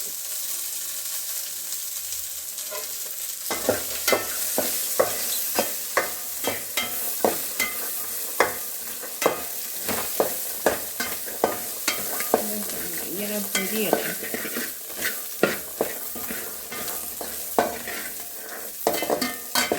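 Cooked rice frying in oil with roasted chickpeas for pulao: a quiet start, then from a few seconds in a steady sizzle punctuated by frequent sharp scrapes and clacks of a spoon stirring in the pan, close up with no voices.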